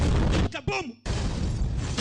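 A loud, broad explosion blast roars from an action film, briefly broken by a short voice, then the heavy rumble surges back and carries on.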